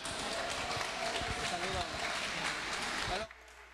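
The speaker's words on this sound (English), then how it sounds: "Give him a round of applause." Crowd at a boxing event in a gym applauds and cheers for a Mexican fighter, a loud, dense wash of clapping and voices that holds steady, then cuts off abruptly near the end.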